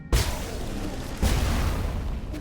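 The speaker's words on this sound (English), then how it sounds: "That is a massive explosion." Two heavy, booming blasts from an exploding enemy in the video game Nine Sols, the first near the start and the second about a second later, each a loud broadband burst trailing into rumble, with no talking.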